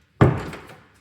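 A single hollow thunk of a cabinet door closing in an empty, newly bought house, loud and close with a short boomy decay.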